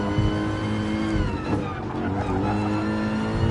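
Car driving in the Gran Turismo VR video game, a loud continuous engine tone with layered harmonics holding steady, a brief dip and tyre scrub near the middle, no talk.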